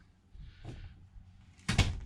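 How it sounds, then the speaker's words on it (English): Campervan bathroom door near a Thetford toilet, opened with a soft rustle and then shut with a short, sharp knock, close and quiet otherwise. "open the door"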